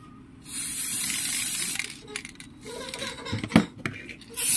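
Aerosol cleaner hisses onto an amplifier circuit board in a DB Audio DB-502-12BT during repair: a steady, close spray burst of about a second and a half, followed by scattered small clicks and handling noises.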